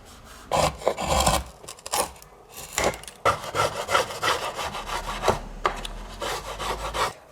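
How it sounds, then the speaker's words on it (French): Rasping and scraping as the ends of a violin's wooden bass bar are cut to a bevel, in uneven, repeated strokes of a hand tool against the wood, close and clear with no talking. "On taille les extrémités en biseau."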